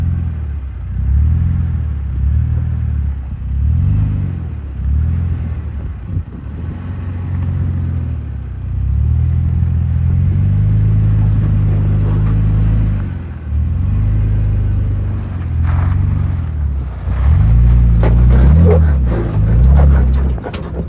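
Engine of a 3rd gen Toyota Tacoma revving loudly in low, pulsing surges while crawling up a rocky off-road climb, then holding a sustained drone before a rougher burst near the end.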